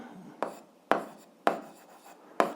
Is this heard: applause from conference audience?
no